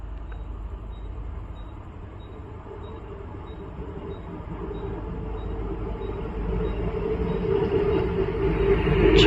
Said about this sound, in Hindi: और सामने से एक और ट्रेन आ रही है